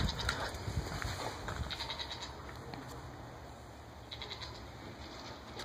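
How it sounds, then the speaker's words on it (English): A goat bleats a few times at a distance against a hissy outdoor background, with faint voices here and there. "Do you hear the goat?"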